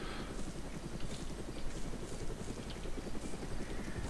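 Helicopter rotor in the Operation Flashpoint Resistance video game chops along at a steady pulse, a faint, distant-sounding thrum without voices.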